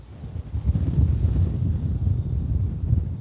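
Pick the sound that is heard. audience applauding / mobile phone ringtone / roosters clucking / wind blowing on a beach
wind blowing on a beach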